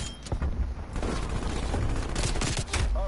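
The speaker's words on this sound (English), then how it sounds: "Nail gun" A nail gun fires in Call of Duty: Cold War as a rapid, dense fusillade of close, loud shots that rattle almost continuously for a few seconds.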